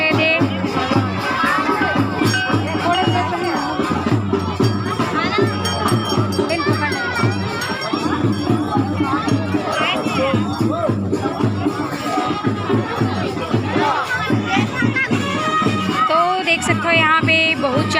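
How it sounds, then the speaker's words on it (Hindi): Dense festival crowd at the Bhojli celebration in Kawardha, Chhattisgarh, a steady loud mass of mingled voices and chatter with music-like tones running through, continuous for the whole stretch. "बहुत ज़्यादा भारी मात्रा में भीड़ है संगवारी हो"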